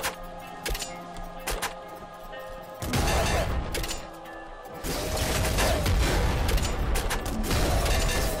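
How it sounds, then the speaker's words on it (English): Super crossbow firing bolts in Nuclear Throne: several sharp twangs and thuds, then a louder, sustained burst of crashing impacts and noisy game effects in the second half, with no talking. "I think the super crossbow fires 2 bolts."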